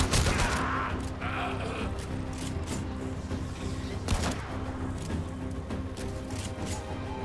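Gunfire from a weapon in the video game Warframe, dense and continuous against a steady game soundscape, with a sharper burst of shots partway through.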